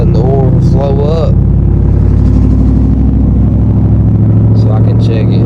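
A Ford F-150 with a 5.0 V8 idles steadily after an oil change, giving a close, continuous low rumble with an even hum, while a voice speaks briefly over it at the start and again near the end.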